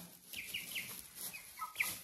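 Two-month-old chickens cluck and chirp softly inside a coop, a scatter of short high calls at moderate distance with no talking.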